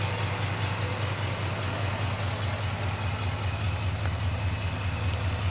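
A running car engine idles steadily, heard up close as a continuous low rumble with an even hum, no voices over it.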